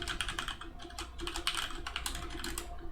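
Code typed on a computer keyboard in a dense, continuous run of key clicks over a steady background hum for three seconds.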